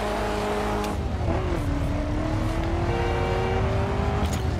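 Car nitro boost in The Crew racing video game, a steady loud engine roar with a rising whine as the car accelerates, continuous throughout with no talk.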